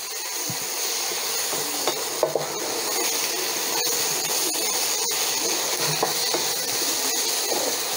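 Fish puttu mixture being stirred in a pan at home, giving a steady soft scraping and hissing texture with faint intermittent clicks of the utensil, no talking.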